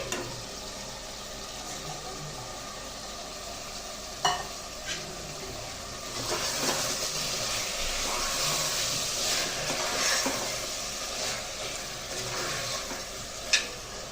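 Mixed vegetables added to softened tomatoes in a hot pan for spicy vegetable pulao, sizzling in a steady close hiss with occasional sharp clicks of a spoon stirring against the pan.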